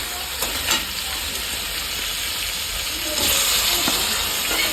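Palva beans tipped into hot oil with chilli, giving a loud continuous hissing sizzle that swells near the end, with a few sharp clinks of a spoon against the pan.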